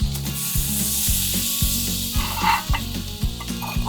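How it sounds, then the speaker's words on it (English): Everything bagels toasting on a flat-top griddle sizzle steadily, a bright hiss running throughout beneath a repeated low rhythmic thumping in the background. "Gonna take our everything bagels right here and toast them up, griddle them up"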